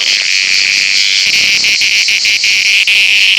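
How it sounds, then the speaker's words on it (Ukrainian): Cicadas sing in a pine forest near Brindisi and Otranto, a loud, dense, continuous high buzzing chorus with slight pulsing, close and unbroken, with no talk. "в сосновий ліс який співає цикадами"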